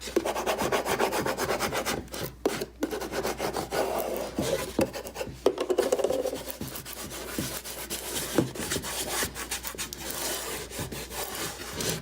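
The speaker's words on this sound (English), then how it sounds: "So you just lay it down with your fingers. And you can use your squeegee also." A squeegee and fingertips rub vinyl transfer tape onto a wooden box, making a continuous close scratchy rasp in quick repeated strokes with short pauses.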